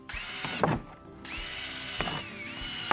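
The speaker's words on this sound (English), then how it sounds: "And just keep drilling" A battery-powered drill bores drain holes through the bottom of a plastic kiddie pool, whirring close up in short runs with brief pauses between holes.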